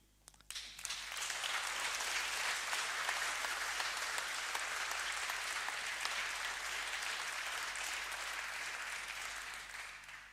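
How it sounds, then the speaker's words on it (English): Conference audience gives the speakers sustained applause, a broad steady wash of many hands clapping at moderate distance, starting with a few early claps and tapering slightly at the close. "A big applause for them for being here, traveling a long time, and making a great presentation and connect to you."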